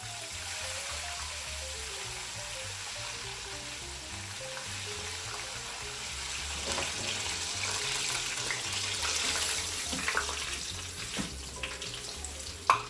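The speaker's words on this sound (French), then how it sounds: "Et on l'envoie dans le bain de friture." Cajun-spiced, flour-coated chicken deep frying in a hot oil bath, a steady hissing sizzle with bubbling that swells midway and stays close and continuous, with no talking.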